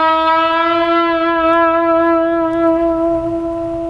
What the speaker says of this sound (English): we're going to shake it a little bit with the whammy bar